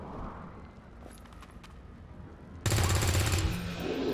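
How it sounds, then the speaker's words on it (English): A loud burst of gunfire erupts near the end in the video game XCOM 2 after a quieter stretch of in-game ambience and faint tones. "Need to shoot it now."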